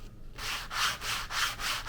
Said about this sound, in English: you take your sanding block, you're going to sand that in